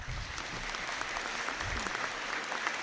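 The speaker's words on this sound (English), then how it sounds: "Round of applause, please." Continuous, even applause from a large crowd at a graduation conferring ceremony, sustained at a steady level from start to finish.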